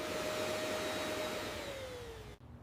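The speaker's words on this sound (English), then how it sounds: "Vacuum up the dry powder to reveal an immaculate, odor-free surface." A vacuum cleaner sucks up dry powder from a floor, a loud, steady whine whose pitch slowly drops before the motor cuts off abruptly near the end, leaving quiet.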